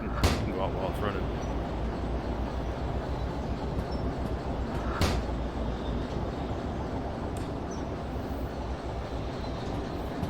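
A train rolls steadily in the Derail Valley VR railway game, heard from outside the moving locomotive as a continuous low rumble of wheels with a few sharp clanks, while someone talks over it.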